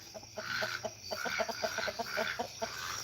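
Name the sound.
chickens clucking near the coop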